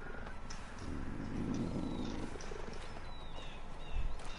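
A big cat in Far Cry 5 gives a low, faint rumbling purr-growl that swells briefly in the middle, set against quiet ambient game noise.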